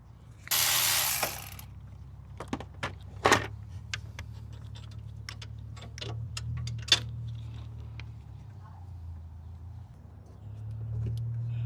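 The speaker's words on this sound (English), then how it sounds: "So let's get the alternator unscrewed so we can pull it out." A ratchet working on the alternator bolts of a 2015 Mercedes-Benz SLK250, with scattered clicks and metallic ticks in short bursts, one louder rustle early on, then quieter fiddling against a low engine-bay hum.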